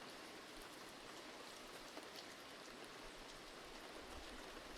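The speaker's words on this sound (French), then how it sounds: "Il pleut de l'or." A shower of gold falling in the video game Golden Light, heard as a dense, steady hiss of pattering like heavy rain, continuous and even throughout with no talk.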